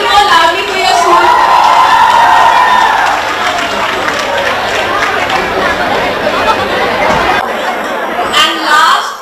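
School crowd at a youth awards ceremony cheering and shouting loudly, a dense wash of excited voices that swells early and then settles into chatter, with an announcer's voice audible near the end.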